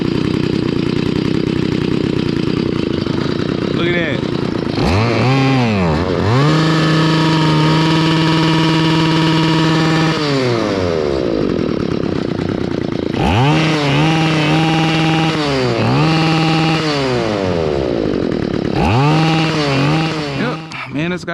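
A revived Stihl FS45 weed trimmer engine runs loud and close, revving up in repeated bursts between rough idling, with a rising and falling whine.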